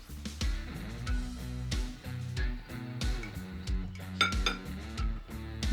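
Chicken and broccoli being stirred in a pot, with repeated clinks and scrapes of a utensil against the pot in an uneven rhythm, close and fairly loud.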